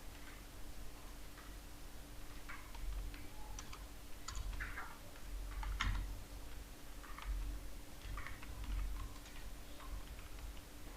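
Keys clack in scattered bursts on a computer keyboard while text is entered in a publishing program, the taps soft and fairly close over a steady low hum, with no talking.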